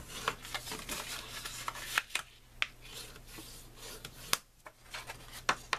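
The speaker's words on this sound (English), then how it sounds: "I'm going to, on my cover, go ahead and fold on the creases." Paper cover of a handmade accordion mini album being folded along its creases, giving soft rubbing and crinkling sounds with sharp creasing taps scattered through, close and quiet, no talking.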